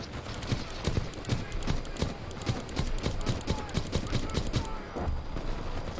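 Rapid bursts of gunfire in Titanfall 2 crack in a fast, uneven rhythm across several seconds, loud and close, with game noise beneath.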